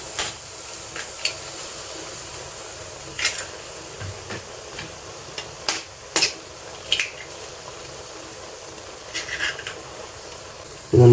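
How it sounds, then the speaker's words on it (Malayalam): A spatula scrapes and clinks against a pan while onion and egg are stirred for kothu parotta, with scattered irregular metallic taps over a low frying hiss and no talking. "നമുക്കിതൊന്ന് ഇളക്കി നല്ലപോലെ യോജിപ്പിച്ച് എടുക്കാം"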